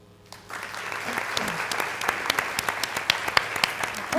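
Audience applause fills a 2019 school district State of the District event, starting abruptly and holding as a dense, steady wash of many hands with a few sharper individual claps standing out near the microphone.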